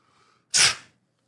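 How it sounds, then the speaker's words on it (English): A single sharp human sneeze, loud and close, preceded by a faint quiet lead-in and ending abruptly with nothing after. "Sorry, I had a sneeze."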